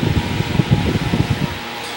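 A Bersted electric fan with a two-pole motor runs steadily up close, a loud continuous whooshing hum with a slight rhythmic flutter from the blades.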